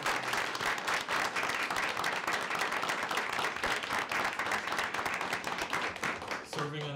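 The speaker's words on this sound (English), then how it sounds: "Let's give them a round of applause" Applause from the audience at a city council meeting, a dense steady patter of many hands clapping for several seconds before fading out at the end, moderately distant.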